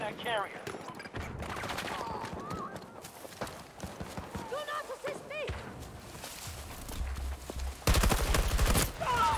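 Gunfire from an unmodified weapon in the video game Battlefield 2042, with bursts of rapid shots among game effects and an ongoing noisy battle, with a steady dense burst near the end.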